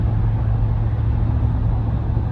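A 2024 Ford F-350 with the 7.3L Godzilla engine pulls steadily up an incline without downshifting, giving a low, constant drone and rumble heard from inside the cab.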